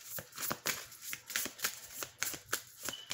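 Tarot cards are shuffled in a steady run of crisp riffling bursts, close and quiet, with no talking.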